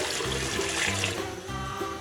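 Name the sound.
water being poured into lentils for shami kabab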